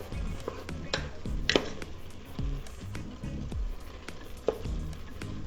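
Ground beef, onions and minced garlic sizzle in an Instant Pot as they are stirred, with a steady frying hiss broken by scraping and clacking utensil knocks.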